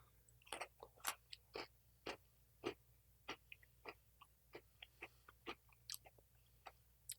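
Someone chewing a Chocolate Hazelnut Oreo cookie close up, a steady run of sharp crunchy bites, quiet and crisp against a faint low hum.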